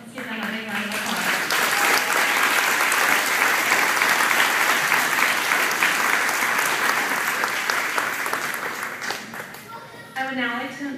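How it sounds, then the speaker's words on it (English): Sustained audience applause at a graduation ceremony, a dense, loud wash of many hands clapping that lasts about ten seconds before a voice begins over the fading claps. "Let's give them a big round of applause."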